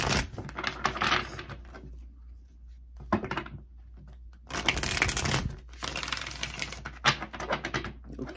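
Tarot cards being handled and shuffled in bursts of dry papery riffling and tapping, with quiet pauses between, close by and fairly loud.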